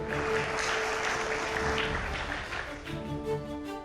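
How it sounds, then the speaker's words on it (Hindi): A crowd clapping in a burst of applause that gradually thins out, with some voices mixed in underneath. "जोरदार तालियां हो जाए एक बार फिर से।"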